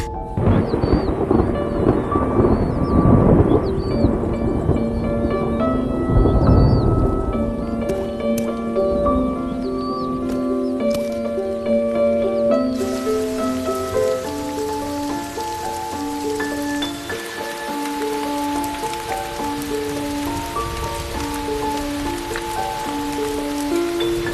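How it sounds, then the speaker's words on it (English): A thunderstorm rolls in over the African savanna after months of drought: deep, loud thunder rumbles through the first half, then steady rain hisses on, with sustained musical tones layered throughout. "After months of drought and struggle, the rains finally arrive."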